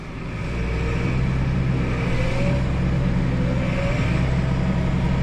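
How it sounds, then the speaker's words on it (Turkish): A six-cylinder New Holland TR6.150 tractor accelerates in automatic transmission, its engine swelling up from a quieter start into a steady, loud drone with rising whine as it shifts up, heard close with no talking. "Şimdi dediğim gibi otomatik vitese aldım. Sadece gaza basıyorum."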